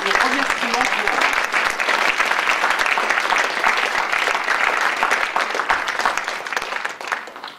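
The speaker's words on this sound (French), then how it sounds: "qu'on les applaudisse, qu'on s'applaudisse nous-mêmes" Sustained applause from an audience, dense steady clapping that continues for several seconds before beginning to thin out at the end.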